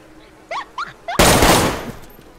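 A single sharp burst of gunfire in DayZ on PS4 cuts in loud and close after a few short vocal yelps, then tails off over about a second.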